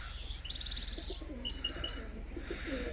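Small red birds chirp and tweet in quick, bright bursts close by, with softer cooing and rustling underneath and no talking.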